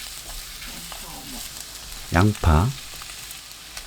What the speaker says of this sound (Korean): 가지 넣고 센 불로 볶습니다. 지글지글 소리 나면 그때부터 1분 더 볶아주세요